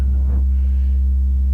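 Steady oscillator sine tone routed through a mixer, a constant low pure hum with a brief soft burst of noise at the start, alone without voices.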